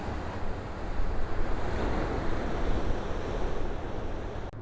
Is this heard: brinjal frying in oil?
no